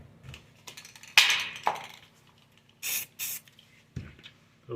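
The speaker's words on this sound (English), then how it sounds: "you could even throw a little spray paint up in there." Spray paint hissing onto countertop epoxy in short bursts: one strong blast early, then two brief back-to-back sprays later, with quiet pauses between.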